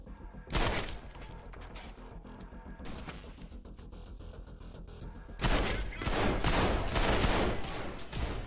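Gunfire in the shooter game Trepang2: two dense bursts of rapid automatic shots, separated by a quieter stretch of softer thuds and clatter, loud and close.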